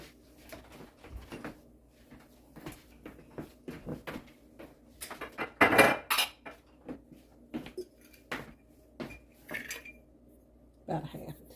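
Cutlery and a bowl clatter as salt is mixed into apple walnut bread pudding ingredients, giving scattered clinks and scrapes with one louder burst of clatter midway in a quiet kitchen.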